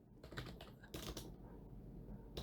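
Rapid, irregular clicking of keys on a computer keyboard, close and quiet, with bursts of several keystrokes in quick succession.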